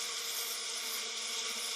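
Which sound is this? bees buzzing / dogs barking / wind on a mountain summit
bees buzzing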